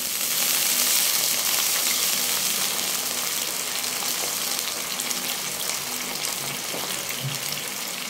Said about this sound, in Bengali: দিয়ে দিলাম 1/2 কাপ জল, মশলাটা কষাবো বলে।